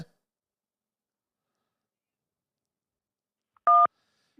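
A single brief electronic telephone tone for an incoming call on a call-in talk show sounds once, loud and clean, amid near silence.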